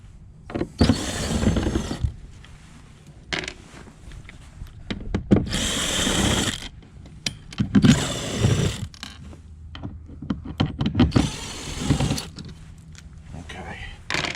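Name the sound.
removing six screws from a kayak panel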